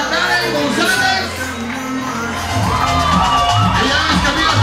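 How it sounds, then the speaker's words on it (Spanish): A crowd at a bikini contest at Ojos Locos Northline cheers and whoops loudly, a continuous mass of shouting and excited voices that swells slightly toward the end. "Un aplauso muy fuerte para Karen González."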